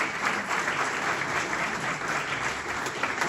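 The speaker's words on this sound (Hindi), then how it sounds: "तालियों से एक बार मेरे लिए ताली बजाइए।" A crowd at an Indian Council of Agricultural Research maize institute function breaks into steady, dense applause that holds at an even level throughout, with no voices rising above it.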